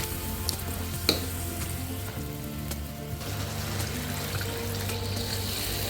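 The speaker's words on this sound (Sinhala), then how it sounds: "චිකන් එක මද වෙලාවක් තැම්බෙන අතරේ සෝයා සෝස් මේස ඇඳි දෙකක් විතර සහ වතුර කප් එකක් එකතු කරලා මේ චිකන් එක හොඳින් තැම්බෙන්න තියන්න ඕනේ" Chicken simmers in a pan with soy sauce and water, giving a steady bubbling, sizzling hiss close up, with a faint clink or two and no talking.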